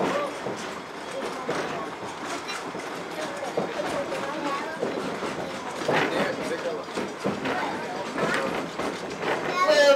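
A theme park train rolls along toward Conservation Station at Rafiki's Planet Watch, its steady rumble and rhythmic clicking running throughout at moderate volume, with people's voices mixed in over the motion.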